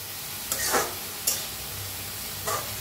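Pumpkin and ambadi leaves are stirred in a pan, with a few distinct scraping strokes of the spoon over a low, steady sizzle, close and moderately loud, with no talking.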